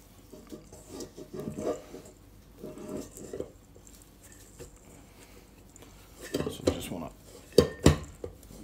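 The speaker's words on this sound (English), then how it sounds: "let's work this dough" Peanut butter dog treat dough being worked by hand in a bowl after the mixer is set aside, giving soft irregular clatters and scrapes against the bowl in bursts, louder knocks near the end.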